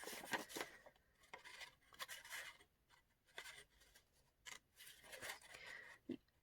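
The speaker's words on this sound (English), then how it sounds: "I'm using the Kokuyo scissors to come in with the July box today." Kokuyo scissors snip through paper to cut out a DIY rosette, giving quiet, close crisp cuts and rustling in uneven bursts separated by short pauses.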